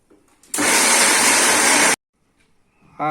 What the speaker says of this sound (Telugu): మనం అవన్నీ వేస్తే స్మూత్గా రుబ్బుకుంటే బాగుంటుంది